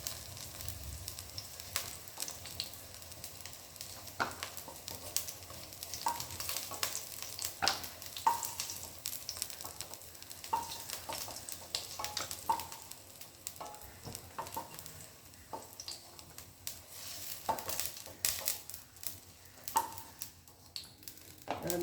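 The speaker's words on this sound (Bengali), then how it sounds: "আমার বেগুনগুলো অল্প ভাজা হয়ে গেছে," Eggplant pieces fry in oil with a steady low sizzle throughout, broken by occasional clinks and stirring scrapes of a utensil in the pan, close and moderately quiet with no talking.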